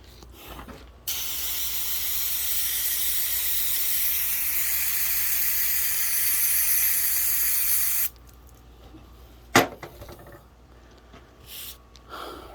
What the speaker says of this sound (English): Really soak it down with brake cleaner now.